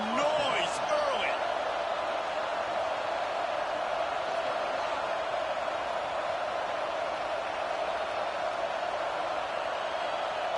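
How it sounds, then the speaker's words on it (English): Steady roar of a stadium crowd in the NCAA 26 college football game, a continuous loud wash of cheering that stays constant throughout, with a commentator speaking over it. "This crowd bringing the energy and noise early."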